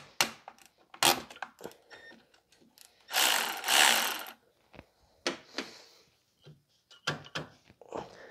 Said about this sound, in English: You also want to loosen the mounting bolt here on the alternator.